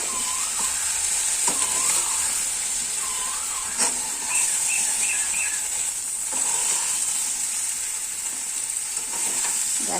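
A pan of jujube pickle with salt and turmeric hisses and sizzles steadily while a spoon scrapes and clacks through it in repeated strokes, with a faint high whistle running over the top; no speech.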